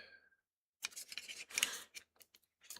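A plastic NECA 89 Batman Batarang folded up by hand, giving a few quick close clicks and snaps in short bursts with brief pauses between.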